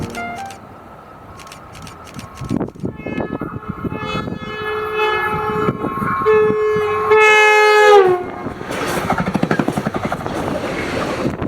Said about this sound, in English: a southbound FrontRunner with 104 leading, which gave a horn show